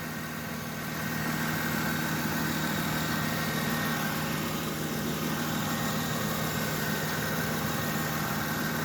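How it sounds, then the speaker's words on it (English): A 2008 Mercedes-Benz C230 4Matic idles with a steady, even low hum and faint mechanical whir, close and constant throughout with no talking. "Okay, with the motor running."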